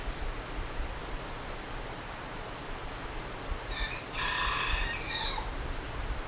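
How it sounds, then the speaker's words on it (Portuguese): A rooster crows once, fairly distant, over a steady hiss of background noise, the single drawn-out call lasting under two seconds near the end. "Olha o galo que tá cantando."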